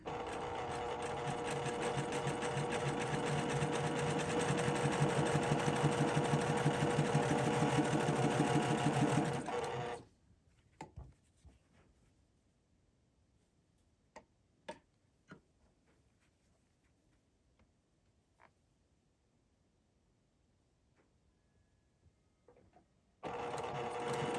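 A sewing machine chain-pieces quilt blocks in a fast, steady, close whirring run for about ten seconds, then stops, followed by quiet handling clicks and taps before the stitching starts again at the end.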